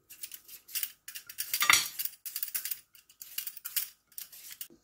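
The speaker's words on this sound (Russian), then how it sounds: "картофель очищаю от кожуры" A knife peels the skin off raw potatoes, giving short, quiet scraping strokes in an irregular rhythm, close and otherwise silent.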